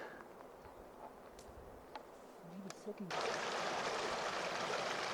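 Rushing river water at a backpacking river crossing, a steady broadband wash that swells abruptly louder midway, with faint low voices and footsteps under it before the surge.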